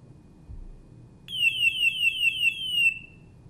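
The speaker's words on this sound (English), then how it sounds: "Make sure that all four sensors go into alarm." A G450 multi-gas detector goes into alarm during a bump test, a loud pulsing electronic tone sounding in a rapid rhythmic series for about two seconds after a faint hiss, then stopping.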